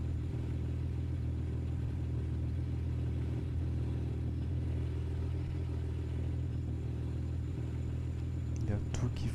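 A BMW M3 E36 with an S50 engine in Street Racer trim, driven in the Assetto Corsa racing game, gives a steady low engine rumble throughout with a brief rise near the end, under someone talking.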